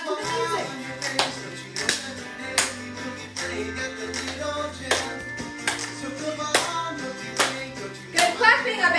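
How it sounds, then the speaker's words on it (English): Children and parents in a parent-child gym class clap along to music, a series of sharp hand claps landing roughly on the beat over a simple tune, fairly close and spaced about a second apart. "we're gonna walk and clap to the music"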